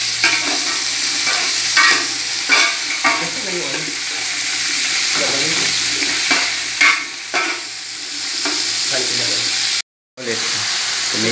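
String beans added to a pot of fish sinigang, a loud continuous sizzle and hiss with scattered stirring clatter, close up, with a brief dropout near the end.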